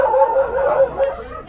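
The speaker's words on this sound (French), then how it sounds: "C'est la guerre des chiens." Several dogs yip, howl and bark at one another in a rough, squabbling tussle, the noise continuous and fairly close, heard on an evening out at Port Barton in the Philippines.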